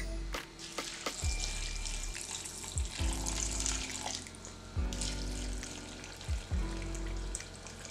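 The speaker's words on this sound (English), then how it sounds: "now I am going to add some very hot water to this and allow it to soak for about 2 hours" Very hot water is poured from a tap over washed sorrel in a kitchen sink or bowl, a rushing splash close by that starts and stops several times with soft knocks between pours.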